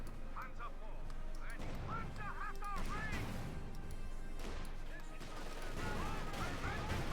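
Bazookas fire at a Panther tank in the video game Company of Heroes 2, giving repeated sharp booms and blasts amid battle noise while a commentator talks over the top.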